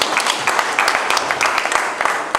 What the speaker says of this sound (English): A round of applause for OOK.